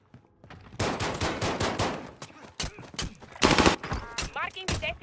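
Bursts of video game gunfire crack through a battle-royale match, with dense rapid shots in the middle and a loud volley near the end, layered with game effects and occasional voices.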